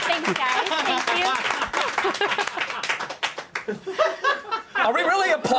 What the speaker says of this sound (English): Are we really applauding that right now?